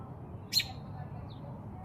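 Outdoors in a quiet residential area, a single short bird chirp rises briefly over faint background hum, followed by a fainter distant call, with no talking.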